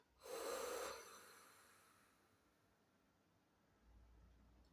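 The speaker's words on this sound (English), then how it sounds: "Take another deep breath through your nose and release through your mouth" A single deep breath is exhaled through the mouth during a meditation session, a soft airy rush lasting under a second, followed by a faint quiet stretch and a low rumble near the end.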